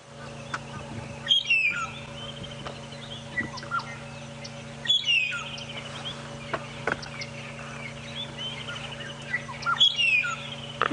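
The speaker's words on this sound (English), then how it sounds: "You can hear a red-chested cuckoo calling in the distance too." Birdsong at sunrise in the African bush: a red-chested cuckoo calls in the distance along with a magpie shrike. Three clear whistled phrases come at regular intervals over a faint steady hum and low ambient noise.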